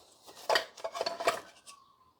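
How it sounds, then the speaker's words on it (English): A metal saucepan lid gets picked up from a farm workshop cupboard among old tins, giving a few close clanks and rattling knocks over about two seconds before settling into quiet. "Saucepan lid."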